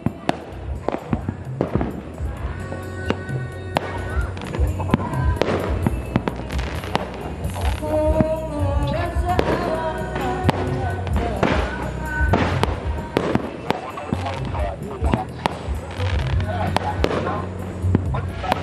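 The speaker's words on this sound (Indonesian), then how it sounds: "kita lihat kembang api di pelosok" New Year's Eve fireworks in rural Sorong, Papua, crack and pop repeatedly at irregular intervals, some bursts near and sharp, others more distant, with people talking in the background.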